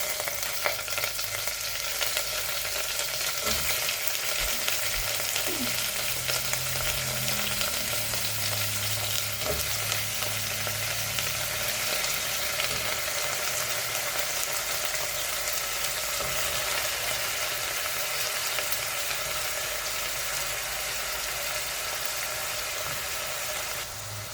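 Vegetables sizzle steadily in a single pot while cooking for sambar, a loud, continuous hiss that lasts throughout with a few soft stirring knocks early on and no voices.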